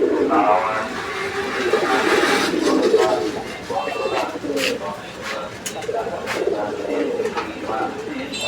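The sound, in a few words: pigeons cooing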